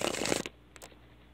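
Tarot cards shuffled briskly by hand, a dense riffling flutter for about half a second, then near silence with a faint soft card tap.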